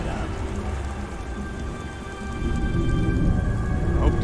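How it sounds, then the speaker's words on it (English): Steady heavy rain pouring down in Beyond Two Souls, a dense close hiss of drops on surfaces with a low rumble that grows slightly louder. "God damn rain."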